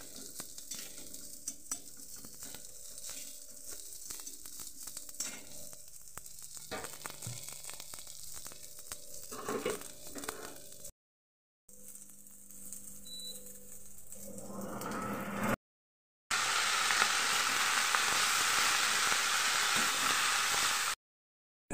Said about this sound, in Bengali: পেঁয়াজ রসুন আর কাঁচা লঙ্কা একটু লাল লাল করে ভেজে তারপর দিতে হবে